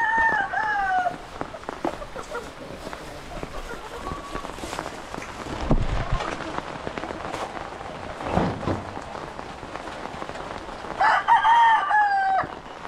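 Tethered roosters at a rural Filipino bahay kubo crow loudly, one long crow opening and another near the end, with scattered clucks, rustling and farmyard noise between.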